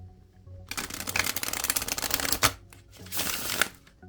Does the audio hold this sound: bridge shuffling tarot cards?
yes